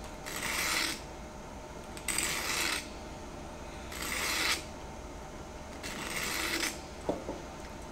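A knife blade drawn across a sharpening stone in four slow, even strokes, each a raspy scrape about a second long with pauses between, faint and close with no talking.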